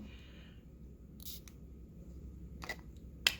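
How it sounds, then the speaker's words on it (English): Two short hissing perfume sprays onto a wrist in quiet, the first around the middle and a sharper one near the end, close to the microphone. "So I'm going to spray it on my wrist."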